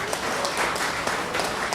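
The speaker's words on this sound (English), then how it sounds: "Give her another round of applause." A crowd applauds steadily at a carnival prize-giving ceremony in Trinidad and Tobago, a dense wash of clapping with no pauses.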